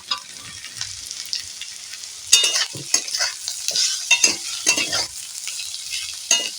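Mango pieces are stirred into fried onions in a hot pan while cooking a rohu fish kalia with mango. Steady sizzling runs under repeated scraping stirs that grow louder and more frequent midway.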